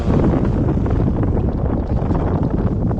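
Strong wind buffeting the microphone on a beach, a loud continuous rumbling roar with no pauses and no voices.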